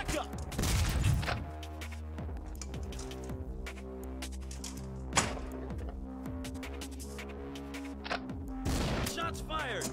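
Bursts of gunfire sound effects from a Zaccaria pinball game, sharp shots at about 1, 5 and 9 seconds over steady electronic tones, music and machine noise that run throughout.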